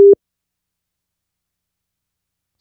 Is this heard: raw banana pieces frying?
no